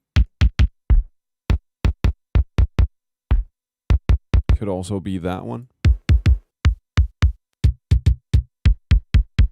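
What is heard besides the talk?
drum machine kick drum samples, Linn LM-1 or Linndrum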